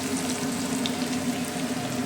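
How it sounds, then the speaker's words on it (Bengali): Chopped onions fry in a pan with a steady, close, even sizzle and a low constant hum, no voices. "বন্ধুরা, পেঁয়াজ ভাজা হয়ে গেছে"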